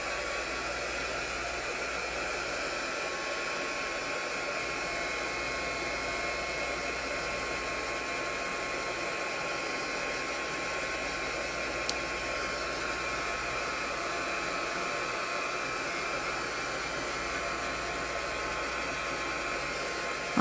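A hair dryer blows steadily to dry paint on a scrapbooking page, a constant loud whooshing hum that holds unbroken throughout and is heard alone.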